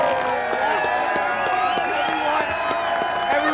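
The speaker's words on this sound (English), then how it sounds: "Can we hear a little applause here?" A crowd cheers and claps in a dense, steady roar at the 2003 Preakness Stakes trophy presentation, with scattered whoops, shouts and voices in the mix.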